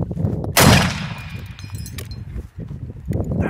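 A single loud, booming shot from a large-caliber gun rings out near the start, its blast decaying over the next second amid outdoor background noise and faint movement.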